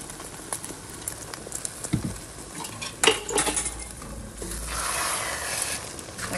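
An egg is stirred in a frying pan as it browns for a torta de huevo, with a metal utensil scraping and clinking against the pan over a soft, patter-like sizzle. Close and steady, with no voices.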